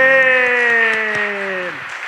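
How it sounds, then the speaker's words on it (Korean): A congregation at a Wednesday church service in Chiang Mai claps in a steady rhythm beneath a loud, sustained speaking or singing voice. "박수를 하나님 앞에만 돌립니다"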